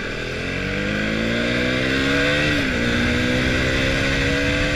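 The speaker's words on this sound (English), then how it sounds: "the single-cylinder engine just loves to be revved" A KTM 390 single-cylinder motorcycle engine revs continuously, its pitch climbing steadily, dipping briefly and then rising again, loud and close with no talking.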